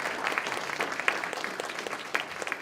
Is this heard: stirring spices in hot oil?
no